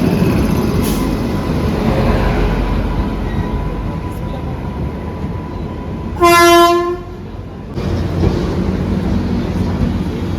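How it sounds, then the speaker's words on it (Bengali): The New Jalpaiguri–Sealdah train, hauled by locomotive 30300, rolls into platform 1 at Jalpaiguri Road station with a loud, steady rumble, and a single long, strong horn blast sounds partway through. "নিউ জলপাইগুড়ি থেকে শিয়ালদার নতুন ট্রেনটা এখন অ্যারাইভ হচ্ছে জলপাইগুড়ি রোড স্টেশনের 1 নম্বর প্ল্যাটফর্মে"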